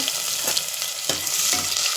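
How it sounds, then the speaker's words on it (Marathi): Garlic frying in hot oil in a pressure cooker for a dry dal and cabbage dish, a steady close sizzle with stirring scrapes breaking through now and then, no voices. "मस्त लसूण टाकला आहे तो असा थोडासा गुलाबी होऊ द्यायचा"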